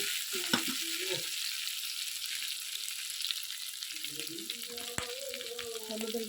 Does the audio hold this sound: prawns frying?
yes